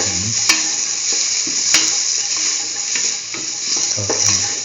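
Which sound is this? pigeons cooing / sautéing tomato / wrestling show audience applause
sautéing tomato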